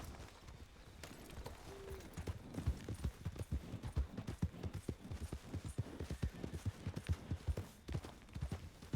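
Horse hooves clip-clop steadily on the ground in the RedM game, a close, even run of rhythmic hoofbeats that lasts throughout with no talking over it.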